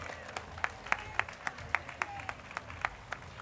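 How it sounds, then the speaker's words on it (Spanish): Audience applause at an August town festival, heard as a fairly faint, distant patter of clapping with a few distinct, regularly spaced claps standing out nearer, over a murmuring outdoor crowd. "¡Un aplauso!"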